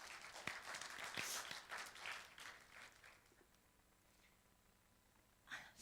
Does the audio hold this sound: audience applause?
yes